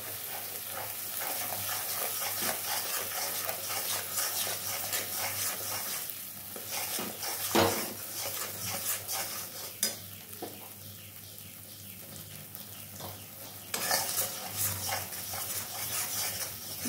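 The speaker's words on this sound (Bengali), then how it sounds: "একদম আমি ধিমে আঁচে কষাবো এটা" A paste of ground poppy seed, fennel and cashew is stir-fried on low heat, a soft continuous sizzle broken by repeated scraping and clinks of a spatula against the pan.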